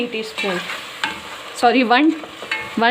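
Whole spices such as fenugreek seeds and fennel fry and get stirred in a pan for Lahori chickpea curry, with nearby scraping and clattering strokes over a steady sizzle.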